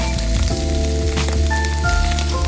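Mushrooms sizzling in a hot pan for a green bean casserole, a loud continuous crackling fry with tonal background music running through it and no voices.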